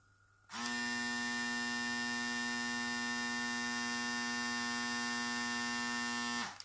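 A Hatteker RSCW 767 foil shaver switches on and runs at a steady, loud, close electric buzz for about six seconds with a strong constant pitch, then cuts off abruptly, with no voices.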